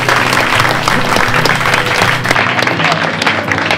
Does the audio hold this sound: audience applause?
yes